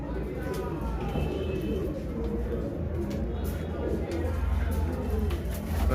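A Chaudhry-breed pigeon coos low and repeatedly at a pigeon market in Shahdra, Lahore, half buried in a steady crowd rumble and murmuring voices.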